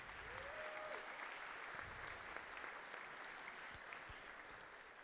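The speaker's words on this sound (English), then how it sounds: "Let's take a round of applause for those guys." Steady applause from a crowd at a painting awards ceremony for miniature figures, sustained and fairly distant across the whole stretch, with a brief tonal whistle early on.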